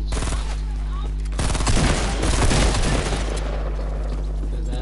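Fortnite gameplay gunfire, a dense, loud burst of rapid in-game shots that swells in the middle and tapers off, layered over a steady low game hum with a voice faintly mixed in.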